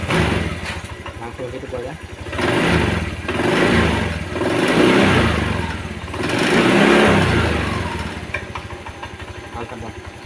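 A Honda Vario 125 scooter that had broken down is started and revved, its engine swelling in several rising surges over idle, close by, with someone speaking briefly near the end.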